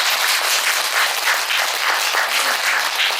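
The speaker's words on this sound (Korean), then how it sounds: "박수 나와야 된다" An audience at a Buddhist sermon gives sustained, dense applause, with many hands clapping together, loud and even throughout with no pauses.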